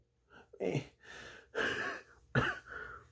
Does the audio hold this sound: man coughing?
yes